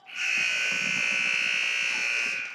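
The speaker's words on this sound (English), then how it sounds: "the buzzer sounds in period 1" A single loud, sustained electronic buzzer marks the end of a period at a women's floorball game, blaring for over two seconds, a harsh steady tone with a sharp onset and brief fade.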